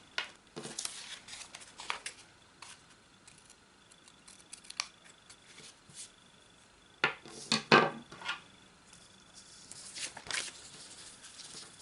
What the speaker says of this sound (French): Alors ici, je fais mes plis.